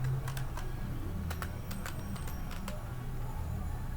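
Typing an Excel formula on a computer keyboard, a scattering of light clicky keystrokes in short bursts over a low steady background hum.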